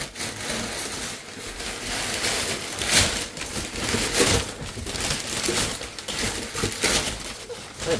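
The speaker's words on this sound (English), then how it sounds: "It's paper!" Paper packing material crumpled and rustled while unboxing a package of toy car parts, a continuous close, loud crinkling with bursts of sharper rustles.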